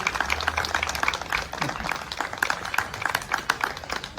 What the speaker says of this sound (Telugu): గట్టిగా చప్పట్లు కొట్టండి అందరూ.